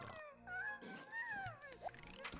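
A hungry pet cat in The Sims 1 video game lets out a drawn, wavering meow followed by a shorter one, clear and up front with faint game sounds behind.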